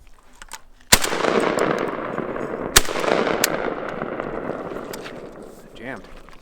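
Two sharp, loud shotgun blasts from a JTS M12AK-T1 AK-47 style shotgun, about two seconds apart, each followed by a long rolling outdoor echo that fades out.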